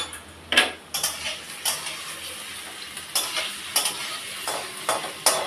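Okra in poppy-seed paste (bhendi posto) fries in a pan with a steady low sizzle, broken by about a dozen sharp scrapes and taps of a spatula stirring against the metal at irregular intervals, close and with no talking.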